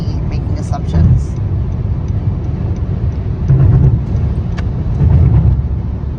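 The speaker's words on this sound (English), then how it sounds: "I'm driving and I'm changing lanes" A car driving on the road and changing lanes makes a continuous low engine and road drone with a few swelling surges, while a voice talks faintly in the background.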